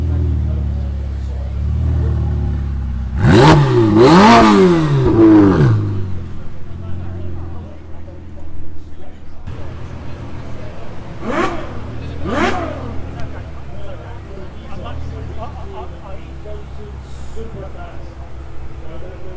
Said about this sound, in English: Coming up next. Is the Ferrari Portofino,